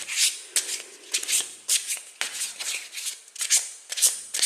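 Tarot cards shuffled by hand up close, a run of quick papery riffles and soft slaps in uneven bursts with brief pauses between, no voices.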